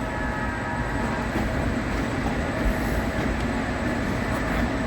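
An O gauge model train runs on a club layout at a model railroad show, giving a continuous, even rolling rumble with faint clicks, steady and close throughout.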